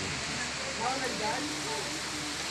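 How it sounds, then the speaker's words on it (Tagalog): Dense, steady hiss of heavy rain pouring down, constant and enveloping, heard from a shop, with a faint voice murmuring briefly underneath. "At ang lakas ng ulan"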